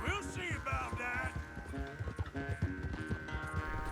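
Quick hoofbeats from a galloping horse in Red Dead Redemption 2 pound in an even, driving rhythm beneath game music, with a brief snort or whinny near the start.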